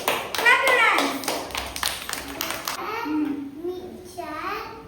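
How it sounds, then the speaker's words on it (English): Children clap their hands in a classroom cooking activity, a burst of quick claps lasting a couple of seconds, with a voice and an adult's speech heard before and after. "Shall we give big round of applause to Tanvi? Clap your hands"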